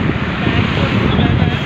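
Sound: strong wind blowing on a highway

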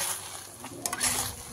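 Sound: stirring grape mithai mixture in a kadhai

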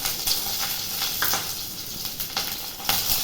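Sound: curry leaves tempering in hot oil

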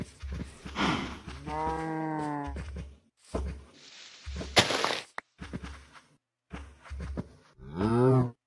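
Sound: cows mooing in a video game

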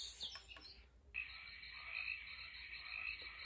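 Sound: croaking frogs from sound machine

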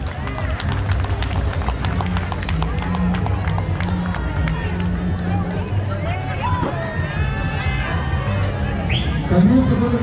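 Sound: crowd applause

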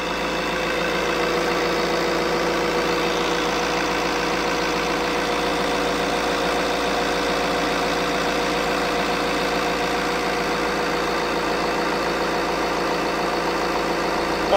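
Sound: new Fiat 1.6 Multijet diesel engine idling

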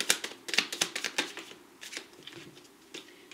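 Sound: shuffling and drawing tarot cards

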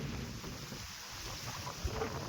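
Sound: wind blowing during a rainstorm

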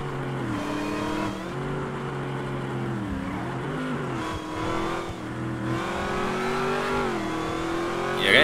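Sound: SRT8 Jeep engine accelerating in video game GTA 5

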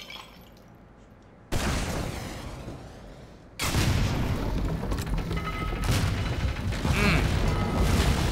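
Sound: gun firing in video game Aperture Desk Job

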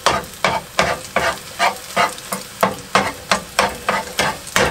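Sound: egg frying in a pan on high heat

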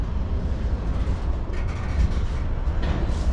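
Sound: Norfolk Southern freight train stopping at red signal

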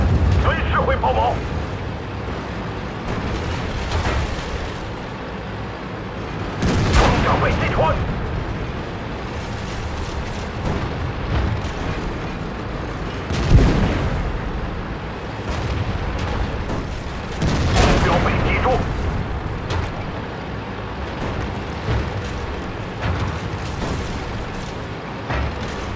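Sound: tank gunfire and explosions in T-34-3 tank video game

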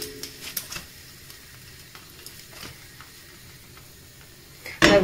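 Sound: thin pancake with bacon frying in a pan

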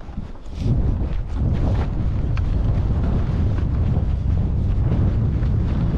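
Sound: strong wind on Dartmoor at night

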